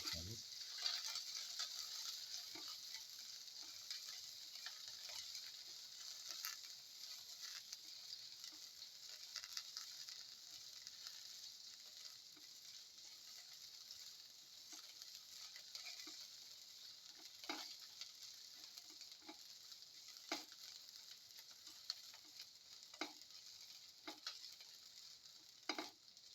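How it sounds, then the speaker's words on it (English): Shallots sautéing in a pan make a faint, steady sizzle over a long stretch, broken by scattered sharp clicks and taps of stirring, quiet and close with no talking. "Keep on sauteing."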